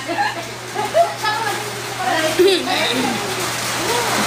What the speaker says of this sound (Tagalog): Ang lakas ng ulan, di ba?